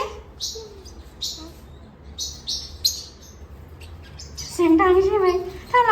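A crowd of parrotlets on a parrot farm chirping and squawking loudly, shrill overlapping calls that swell near the end, with a low hum underneath.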